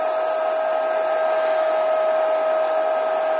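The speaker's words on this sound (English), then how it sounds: "Hair dryer. So it might get a bit noisy for a little while" A hair dryer blows steadily and loudly while drying a handmade mixed media card, giving one continuous close whooshing hum with a constant motor whine and no talking.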